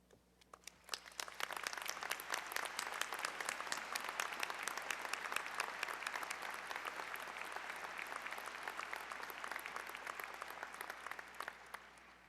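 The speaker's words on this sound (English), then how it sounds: "It is now my distinct pleasure to ask all members of the faculty to stand as you join me by honoring them with your applause" A commencement audience applauds the faculty at a December 2011 undergraduate ceremony, a dense, steady wash of many hands clapping that swells in after a second and holds for the rest, filling a large hall with no talk.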